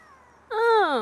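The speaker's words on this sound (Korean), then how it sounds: "역시 고양이다." A cat in a forest gives one loud, close, drawn-out meow in the second half of the moment, after near silence.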